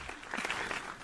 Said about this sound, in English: Applause, man.